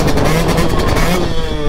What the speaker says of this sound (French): T'es fou, tu fais une musique avec ta moto.